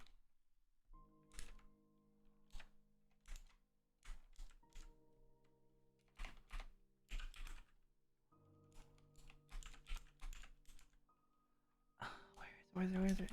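Keys clatter on a computer keyboard during a programming session, coming in short irregular bursts of clicks with pauses between them, close and fairly quiet, and a low steady hum sits underneath.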